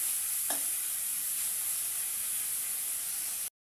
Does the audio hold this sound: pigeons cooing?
no